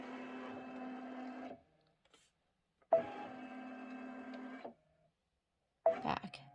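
An embroidery machine stitches a pillow design in two steady whirring bursts of a couple of seconds each, separated by short pauses, with a brief start of a third run at the end; close and moderately loud with no talking.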